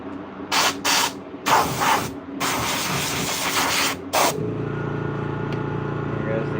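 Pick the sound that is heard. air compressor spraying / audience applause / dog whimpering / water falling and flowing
air compressor spraying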